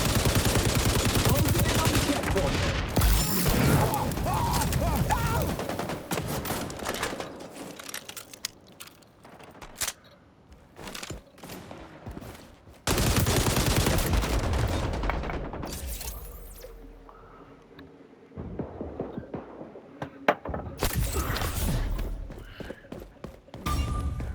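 Rapid, loud gunfire from the video game XDefiant, with dense bursts of automatic fire and shots nearly continuous across the clip, broken by a few short lulls.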